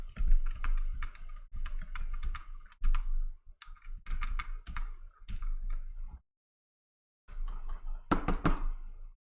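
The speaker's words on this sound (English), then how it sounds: "We hear you and your keyboard." Clattering keystrokes on a computer keyboard, fast irregular bursts of typing close to the mic, pausing briefly near the end before a final flurry of clicks.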